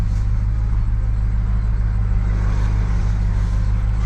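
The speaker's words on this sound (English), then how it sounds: "So I'm gonna park this truck right here." A Ram pickup truck's engine idling and rumbling steadily at close range as it is driven slowly and parked near a car hauler, with a constant low drone and no voices.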